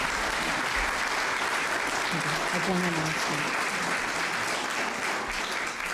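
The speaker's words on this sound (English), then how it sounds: "And please offer your applause to the candidates." Crowd applause at a League of Women Voters debate between sheriff candidates. A steady, dense clapping fills the room, and a voice speaks briefly partway through.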